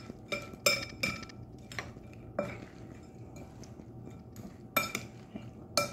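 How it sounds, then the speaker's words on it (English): A spoon stirs a corn and feta salad with herbs and onion in a bowl, giving irregular clinks and scrapes against the dish, close and fairly quiet, with soft mushy mixing between the knocks. "So I've grabbed my spoon and I'm just stirring"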